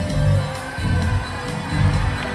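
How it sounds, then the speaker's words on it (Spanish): A large audience at a reunion concert in Morelia cheers and shouts in loud, swelling waves that rise and fall. "quiero que juntos le brindemos un aplauso a cada uno de estos caballeros"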